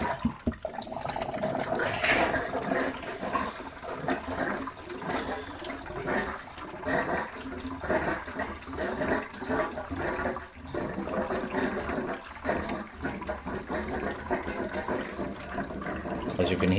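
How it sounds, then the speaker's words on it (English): Steady gurgling and splashing water with bubbling pulses from an aquarium canister filter filling up, a continuous wet churn, moderately close and without voices. "filter's making a lovely gurgling sound"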